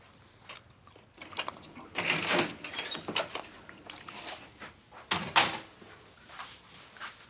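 A house door is opened with a series of clattering knocks and rattling bursts, including a louder jolt near the end, heard fairly close in a quiet room.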